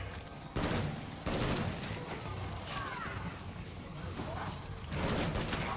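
Loud bursts of gunfire from the video game State of Decay 2, one heavy shot near the start and another shortly after, then quieter scattered clatter and impacts, with a further burst near the end over constant game ambience.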